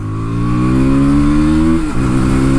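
A KTM Duke 160 motorcycle accelerating in second gear, a loud close engine whine that climbs steadily in pitch, then dips briefly as the throttle eases before settling.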